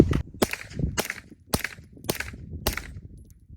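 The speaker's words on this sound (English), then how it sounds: "First 5 supersonic 124 grain Federal." An MP5 fires supersonic 124 grain Federal ammunition: five loud, close, sharp shots in about three seconds, each with a brief ringing tail.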